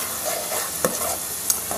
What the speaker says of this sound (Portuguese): eu coloquei a cebola, tá certo? Uma cebola toda e metade de um pimentão. E um pouquinho de óleo. E vou deixar dourar um pouquinho